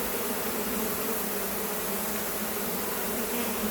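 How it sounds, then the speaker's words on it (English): Dense, steady buzzing of honey bees swarming close around an open hive being inspected before a Flow Hive honey super is fitted, loud and unbroken with no voices. "Gotta work fast when it comes to bees."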